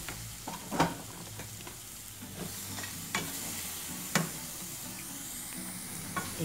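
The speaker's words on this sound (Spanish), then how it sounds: "Y continuamos en tostar el ajonjolí." Sesame seeds toast in a pan with a soft, steady sizzle, punctuated by a few scraping stir clicks and light pops at irregular intervals, close and fairly quiet.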